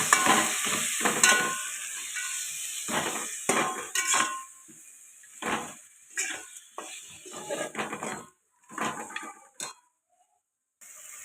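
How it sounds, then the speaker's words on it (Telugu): Prawns frying in a pan with yogurt mixed in for prawn pulao, bursts of sizzling and scraping stirring strokes coming and going, close and fairly loud, with brief quiet gaps. "ఇవి ఇలా ఫ్రై అవుతున్నాయి కదండి"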